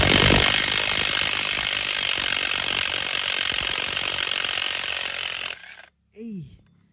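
An old REAIM impact wrench loosens a tight nut with loud, continuous rattling hammering for about five seconds, then cuts off abruptly. A short vocal sound follows.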